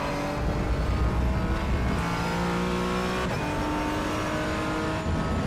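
Race car engine in a sim racing tournament game, accelerating steadily toward the start-finish line under the gantry, a loud continuous roar with rising revs throughout and no voices.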